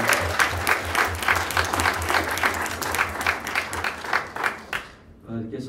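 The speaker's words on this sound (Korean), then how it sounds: "박수하겠습니다." A church congregation at an all-member retreat applauds the group Bible dramas, with dense, lively clapping and crowd noise that carry on for several seconds before cutting off abruptly, followed by a brief murmur.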